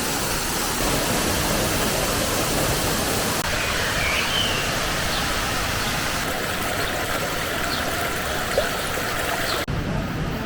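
Crna Reka river in Serbia flowing with modest water, a steady broadband rush of moving water close by that fills the whole scene evenly.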